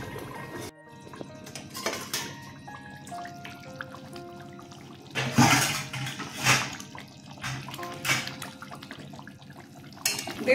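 A pot of pineapple katla, fish cooked with pineapple paste, being handled on the stove, with clinking metal, a few sharp clatters of a lid being set down, and faint bubbling between, close and intermittent.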